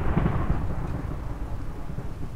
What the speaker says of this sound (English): Alright, so I just heard some lightning strike